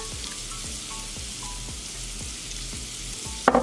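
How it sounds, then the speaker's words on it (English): Sausage grease and flour cooking together into a roux for gravy, giving a soft crackling sizzle from the pan, steady and fairly quiet, with a brief sharper clatter right at the end. "you're more or less creating a roux from the flour and the greases from your sausages by doing this"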